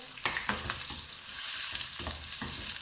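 A large onion frying in a hot pan for a potato-aubergine sabzi, with a steady sizzle running throughout and a spoon scraping and stirring in repeated strokes.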